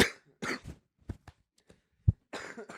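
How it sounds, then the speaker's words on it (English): Several harsh, breathy coughs come in short bursts, close to the microphone, with one deep thump-like cough in the middle and scattered brief vocal sounds between them. "It's cough."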